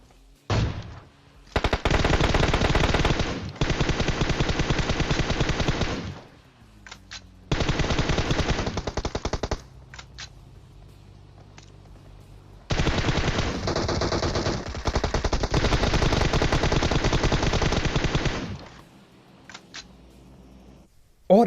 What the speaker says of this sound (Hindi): मैं साइड से खड़े होके गोलियां पेल रहा हूं